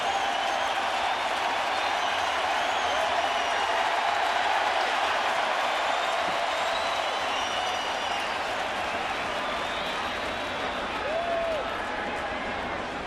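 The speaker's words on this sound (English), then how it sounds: "Crowd wants curtain call." A baseball stadium crowd at Yankee Stadium cheers and applauds without a break, calling for a curtain call after a home run. The roar is dense and sustained.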